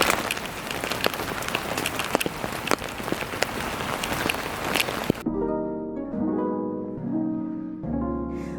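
Heavy rain patters densely onto surfaces for about five seconds with scattered sharper drops, then cuts off abruptly and gives way to music.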